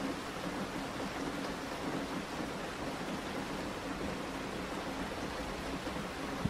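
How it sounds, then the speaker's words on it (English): Steady rain pattering on the roof of a parked van at night, a soft continuous hiss with a faint low rumble underneath, even and unbroken throughout. "you feel gentle raindrops falling from above"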